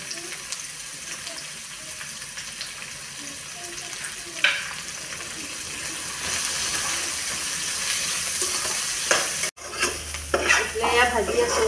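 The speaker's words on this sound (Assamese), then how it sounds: "ভাতকেৰেলা মিহিকৈ কাটি লৈ এয়া ৰান্ধিছোঁ" Finely chopped bitter gourd frying in a home kitchen pan, a steady close sizzle with occasional stirring scrapes, ending in a burst of louder sizzling and clatter.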